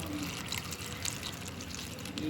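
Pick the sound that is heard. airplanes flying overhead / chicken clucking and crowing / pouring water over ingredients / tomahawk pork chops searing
pouring water over ingredients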